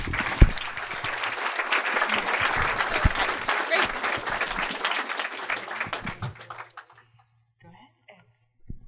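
An audience breaks into sustained applause to welcome Valerie Plame at an evening book talk: dense, steady clapping for about seven seconds, then quickly fading to near silence with a few stray claps.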